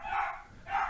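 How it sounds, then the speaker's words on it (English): A dog gives two short barks in a home, heard at a moderate distance and fairly faint. "Sorry, that's my dog."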